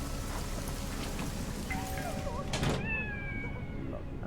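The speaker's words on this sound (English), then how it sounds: "Okay, I can hear the cat" A cat meows in the video game Deus Ex: Mankind Divided, one drawn-out rising and falling cry near the middle, heard over a steady wash of rain in an apartment setting.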